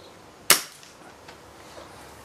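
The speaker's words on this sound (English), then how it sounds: "It's slower than the Paul Short gun." A tuned HW 97 air rifle discharges once, a sharp, close crack that fades quickly, leaving quiet room tone.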